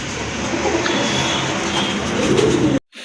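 Giribaj pigeons, including a female, coo amid a steady dense background rumble that runs unbroken for nearly three seconds and then cuts off abruptly.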